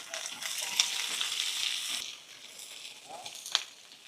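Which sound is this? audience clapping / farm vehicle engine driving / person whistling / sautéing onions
sautéing onions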